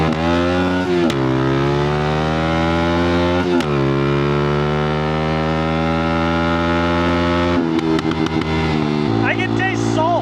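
Two Cummins diesel trucks accelerate hard side by side in a roll race on the salt flats, with a loud, steady engine roar that climbs in pitch through long gear pulls before shifting near the end.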